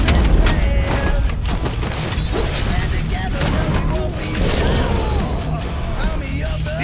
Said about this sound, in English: Incoming explosion!